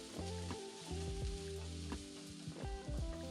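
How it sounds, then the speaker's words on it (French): Onion and carrot slices frying in a spoonful of oil in a sauté pan over medium heat, a faint steady sizzle with soft crackles and a few light stirring touches. "Dans une sauteuse à feu moyen avec une cuillère à soupe d'huile, faire revenir l'oignon une vingtaine de secondes, ajouter des tranches de carottes"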